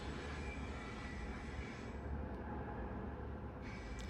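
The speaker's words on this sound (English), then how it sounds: "There's a train in the background." A long freight train rumbles past in the distance with a steady, continuous roar of rail noise. It stays faint and even throughout, with no voices.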